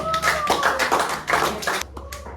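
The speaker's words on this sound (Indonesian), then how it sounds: "Tepuk tangan." Children clapping hands in a classroom quiz session, a quick patter of uneven claps over a couple of seconds, close, with a faint voice and tonal hum underneath.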